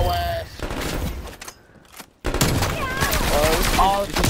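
Rapid video game shooter gunfire, loud and dense, with a brief near-silent pause midway before the bursts resume alongside game sound effects and a talking voice.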